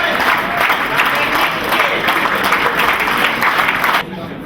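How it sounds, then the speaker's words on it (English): A hall audience at a rugby league club's 2007 presentation night gives sustained, loud applause for the camera crew, dense clapping and crowd noise running steadily before cutting off near the end. "Big clap for them. Put your hands together for it."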